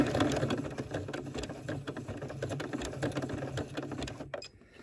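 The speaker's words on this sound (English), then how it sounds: "I take a few stitches forward and backward." Sewing machine running steadily as it stitches forward and backward through a fabric-wrapped coiled rope bowl holder at a handle, a continuous close mechanical whir that stops abruptly at the end.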